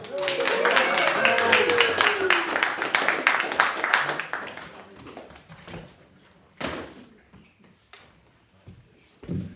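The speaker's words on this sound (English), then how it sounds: "Make a huge round of applause for Mr. Morris Martian." A small open-mic audience claps for a stand-up comedian, dense applause over the first few seconds with a whistle on top, then thinning into a few scattered claps and knocks.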